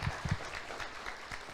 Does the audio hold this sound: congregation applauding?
yes